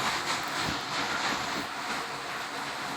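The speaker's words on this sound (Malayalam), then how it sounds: "പിന്നെ ട്രെയിനിൻ്റെ യാത്ര പൊളിച്ച്." A train ride in the video game Indian Bike Driving 3D, heard as a steady broadband rumble and rushing hiss of a moving train, constant and fairly loud throughout with no talking.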